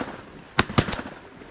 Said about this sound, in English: Shot my little bird, Jeff.